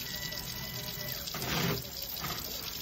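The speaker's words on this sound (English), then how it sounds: "Then I'm gonna wash my hands now." Tap water runs into a sink as someone washes their hands, a steady low splash that swells louder for a moment midway before easing back.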